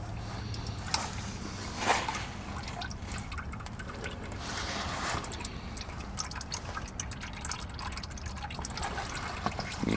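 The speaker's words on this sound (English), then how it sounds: "So just let it drain. You know, splashing up a little bit, but let it do its thing." Engine oil drains from a 7.3 Powerstroke diesel into a drain pan, making a steady, close, trickling pour with light splashing that runs on unbroken and alone.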